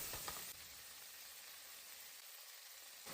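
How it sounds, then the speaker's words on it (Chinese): Blanched vegetables tossed in a hot wok with garlic slices give a steady broadband sizzle, loud and continuous from start to finish, with a brief stirring clatter at the start. "再把焯过水的蔬菜下锅，翻炒个5、6、7、8下"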